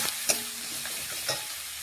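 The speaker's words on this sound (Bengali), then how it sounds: "এখন ভালোভাবে মিশিয়ে নিচ্ছি পেঁয়াজের সাথে।" Onions are stirred in a pan with turmeric, ginger, cumin, garlic and green chili paste, giving soft scraping strokes over a faint sizzle. The stirring is brief and quiet.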